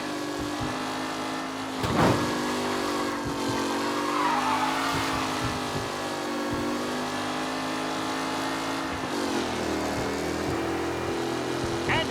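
Race cars roar past in the Mafia video game, engines droning and shifting pitch with tire squeals and a few sharp knocks, a steady loud mix of motors throughout.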